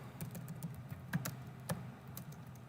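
Quiet, irregular typing on a computer keyboard with scattered soft key taps and a few slightly louder strokes, alone with no talk.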